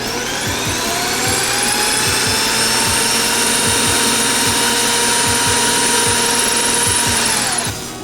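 A power drill bores into brick with a loud, continuous whine and a rapid rhythmic clacking from close by, running steadily for several seconds before stopping.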